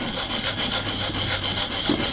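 A custom knife blade stroked against a sharpening stone on a Vipersharp guided system, a loud, close, continuous gritty rasping with even back-and-forth strokes and no talk.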